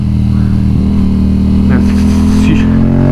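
Yamaha MT-07 motorcycle taking a tight corner in second gear, a loud close engine drone with a brief rise in revs, while a rider talks over it.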